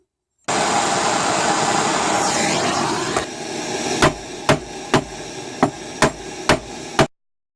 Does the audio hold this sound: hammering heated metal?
yes